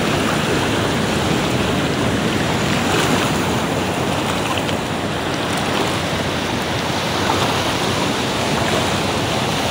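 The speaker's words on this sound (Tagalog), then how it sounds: "lakas ng alon" Strong ocean waves crash and churn against rocks at a fishing spot, a loud, continuous roar of surf and wind buffeting the microphone with no letup.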